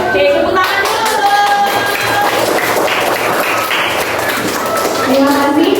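Classroom audience clapping hands during a school environmental-studies lesson, a dense, continuous patter of many claps with voices and other sounds mixed in throughout.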